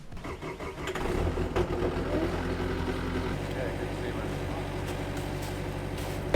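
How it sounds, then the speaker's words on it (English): An excavator engine starts and settles into a steady low idle in warm-up mode on frozen ground, a constant rumble with a faint voice talking over it. "Engine speed limited, warm-up mode. We're in warm-up mode."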